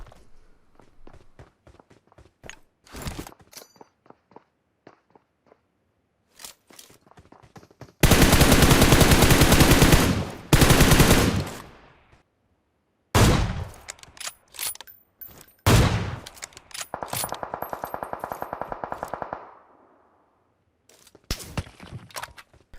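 Gunfire in the battle royale game PUBG Mobile: scattered single shots and clicks build into long, loud automatic bursts, with mechanical reloading sounds and footsteps between the volleys and short pauses of near silence.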